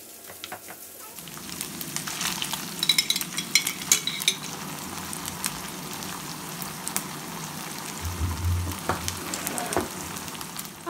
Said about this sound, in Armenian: միջուկի համար սոխը տապակեցի աղացած մսով